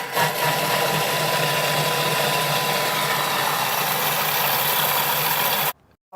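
A Thermomix food processor whirs at speed 5, a loud, steady, close motor hum with grinding texture that runs evenly for several seconds and stops abruptly near the end.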